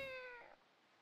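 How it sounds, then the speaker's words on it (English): A single short, faint meow from a cat, rising then trailing off quickly. "I love when Link makes the weird meow."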